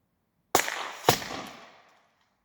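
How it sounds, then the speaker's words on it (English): A black powder gun fired twice, each a sharp loud report with a long fading rumble, the second shot following about half a second after the first, with a faint tap that could be the ball striking the target. "You're not supposed to be able to hear the ball hit when you're shooting black powder."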